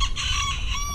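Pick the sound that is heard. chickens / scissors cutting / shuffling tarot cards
chickens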